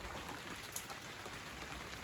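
Steady rain falls in a village, a dense, even hiss of drops with no one speaking.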